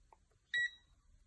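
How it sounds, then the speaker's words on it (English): A short, bright electronic beep from the circuit of a 1980s toy transforming car, a clear tone lasting about a tenth of a second, sounding once close by in an otherwise quiet space. "It does beep."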